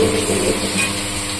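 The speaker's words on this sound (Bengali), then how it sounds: "মটন দেওয়া হয়ে গেছে, মটনটা সুন্দর করে ফ্রাই করো" Mutton sizzles in a pan, a loud, steady hiss of frying meat close by, with faint scraping and stirring textures throughout.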